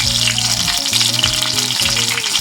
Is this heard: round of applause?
no